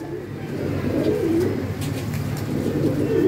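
Low, soft cooing of red-eyed Kasuri pigeons repeating steadily, with a faint airy background hiss and no talking.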